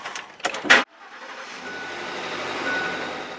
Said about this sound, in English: I'm going to run the engine for 5 minutes as the directions state